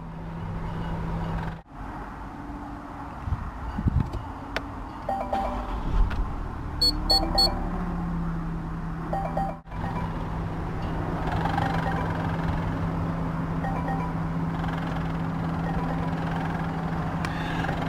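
A 2019 Land Rover Discovery 3.0 SDV6 diesel cranks with a sharp jolt, catches and settles into a steady, low idle hum, with a few soft electronic chimes sounding over the running engine.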